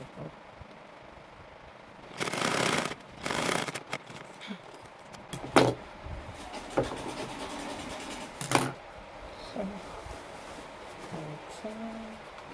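Scissors snipping through fabric while a kids' dress is sewn: a few short, crisp cutting bursts up close, then scattered lighter handling clicks and rustles in a quiet room, with a voice speaking softly now and then.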